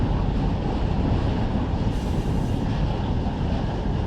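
A freight train in Run 8 Train Simulator on the Buttonwillow Branch in California, hauling covered hoppers, gives a loud, continuous rolling rumble of rail cars with steady wheel noise and no talking.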